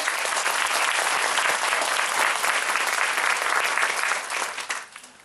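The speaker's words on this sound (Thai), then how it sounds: "วันนี้อยากให้ทุกท่านนะครับปรบมือดังเพื่อเป็นการขอบพระคุณนะครับ" An audience breaks into thick, continuous applause in thanks to a doctor, the clapping dense and even before tapering off in the final second.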